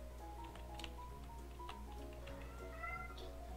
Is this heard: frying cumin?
no